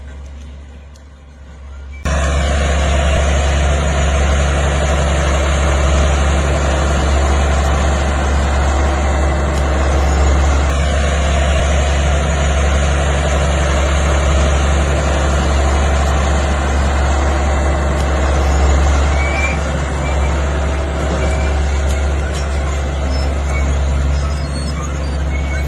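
A farm machine engine runs steadily while driving a heavy-duty stick rake for land clearing, giving a loud, continuous low drone that starts after a short quiet opening and holds without a break.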